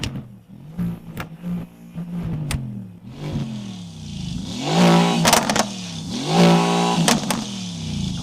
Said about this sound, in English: Listen to how this engine sounds.